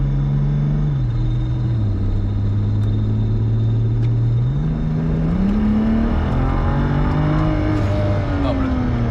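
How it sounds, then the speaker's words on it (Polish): A 2006 BMW 335i E92 accelerates hard from 80 to 120 km/h, its engine note climbing steadily through the gears under a constant loud rumble of road and wind noise. "Dosłownie w moment od 80 do 120 przyspieszyliśmy"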